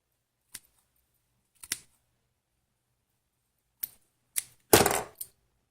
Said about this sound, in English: tighten up the skirt and trim it